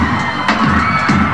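Crowd cheering at a Sina.com awards ceremony in China, a dense, steady roar of many voices with a couple of brief louder swells.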